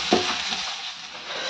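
Food fries in a pan over a wood fire, a steady broadband sizzle running throughout at moderate, even loudness, with a brief clatter near the start.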